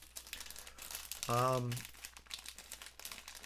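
A crinkly plastic bag is crumpled close by, giving a continuous dry crackle, with a short voiced groan in the middle of the clip.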